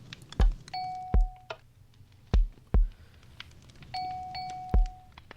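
Minecraft note block bell tones mixed with sharp clicks: about six bright percussive hits at irregular spacing, two followed by sustained ringing bell notes, loud and close with no talking.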